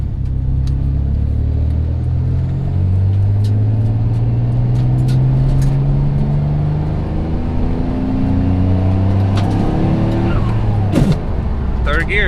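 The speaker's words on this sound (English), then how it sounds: "Third gear grinding, what a surprise." A built twin-turbo Mitsubishi 3000GT accelerates hard, its engine droning loud and close while the pitch climbs, dips at a shift and climbs again. Cabin rumble runs throughout, and voices talk over it.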